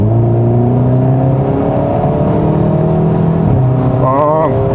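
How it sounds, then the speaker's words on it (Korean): A 2020 Hyundai Veloster N with a dual-clutch gearbox pulls away and accelerates with rising engine drone, exhaust crackle not clearly evident and the loud interior engine note steady throughout with a sharp shift near the end. "얘가 팝콘 소리가 전혀 없다고 그러는데 팝콘의 음량이 작아진 거지 없어진 건 아니네요."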